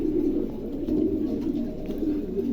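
A pair of pigeons coo softly and continuously inside a 30-inch cage, a low, rolling murmur held close and steady throughout.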